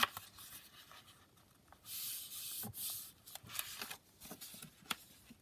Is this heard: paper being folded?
yes